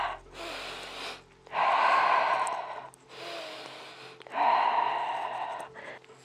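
Deep breathing during a beginner yoga session: alternating long inhales and exhales, each a few seconds of airy rushing sound, close to the listener with soft music faintly underneath.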